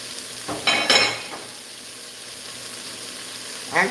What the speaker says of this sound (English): Once I deglaze it, I'm going to move it to the other side and then cook the fish.